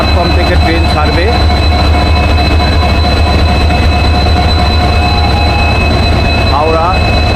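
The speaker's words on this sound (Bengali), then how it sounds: "19 নম্বর প্ল্যাটফর্ম থেকে ট্রেন ছাড়বে" The Howrah–Adra–Chakradharpur Express stands at platform 19 of Howrah station with a loud, constant engine drone and rumble, brief metallic squeals rising near the start and end, and voices in the background.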